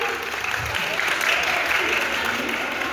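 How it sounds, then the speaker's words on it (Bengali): An audience at a national martial arts event applauds loudly, a dense sustained wash of clapping heard up close for a few seconds. "জোরে হাততালি"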